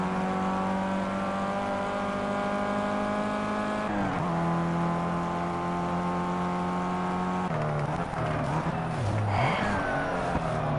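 Formula 1 cars race in the rain in the Project Cars video game, a loud, continuous high-pitched engine whine that rises and drops through gear changes, with brief tire noise near the end.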